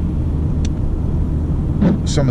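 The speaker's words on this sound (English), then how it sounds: "let's run through a roundabout here and go through a couple of the gears" A Honda Civic Type R drives through a roundabout, its engine giving a steady, close, low rumble with no distinct gear change standing out.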